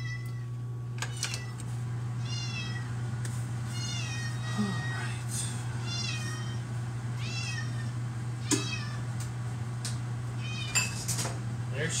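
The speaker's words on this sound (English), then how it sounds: "There she goes, good old Yubi, meowing away." A cat meows repeatedly in short rising calls over a steady low microwave hum in a kitchen, with occasional clinks and knocks in the background.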